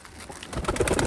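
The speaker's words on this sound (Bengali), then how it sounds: "এই সব কবুতরগুলো পুরোনো পুরোনো জেনারেশনের কবুতর" Old-generation Khulna high-flying pigeons cooing in a loft, soft at first and then several close, throaty coos rising over a faint background.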